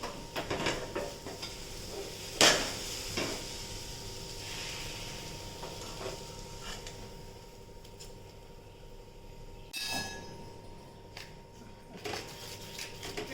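Vegetables are stirred into a semolina batter, with a steady soft hiss and intermittent scraping and knocking of the utensil against the vessel, including a sharper clatter early and a few later.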